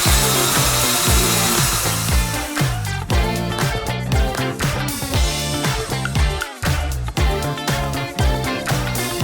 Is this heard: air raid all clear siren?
no